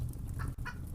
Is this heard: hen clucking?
yes